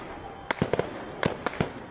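Sharp cracks of gunfire from government troops in news footage, about seven quick shots in uneven clusters, fairly close and standing out over a low background.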